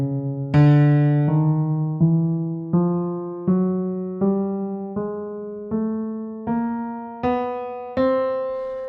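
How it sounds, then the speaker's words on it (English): A synth tone played from an Ableton Push climbs a chromatic scale from C to the octave above, thirteen evenly spaced separate notes rising step by step, clean and alone. "if I play all of the keys up between this C and"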